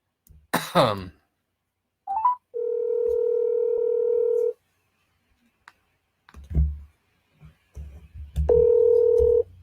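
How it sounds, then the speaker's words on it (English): A throat clear and a click, then a steady telephone dial tone, dialing beeps and clicks, and the dial tone returning, all close and clear. "So I'm going to go ahead and give Channing a call here, and we'll go ahead and start the interview."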